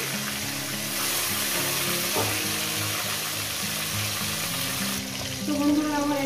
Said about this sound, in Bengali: আমি 4টে করে দিয়ে ভাজছি।